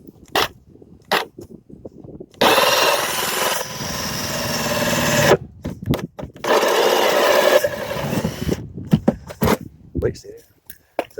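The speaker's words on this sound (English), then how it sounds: "Now we're going to drill the 2-inch hole." A 2-inch hole is drilled through a plastic sump basin for a 1.5-inch discharge pipe, two loud sustained bursts of grinding drill noise separated by a short pause, with a few clicks and knocks of handling before and after.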